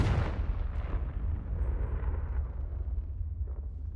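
Confringo fire spell exploding in Hogwarts Legacy, a loud deep burst at the start that decays into a long low rumble and crackling debris.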